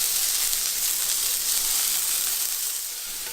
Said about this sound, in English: once you see one of the sides getting blistered, you give the tomatoes a stir